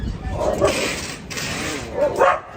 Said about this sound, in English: Barking at the other dog.